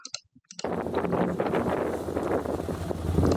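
Wind effect for a sci-fi starship scene, pitched down, starting after a short quiet gap and then rushing in as a loud, steady, broad roar with rumbling low end.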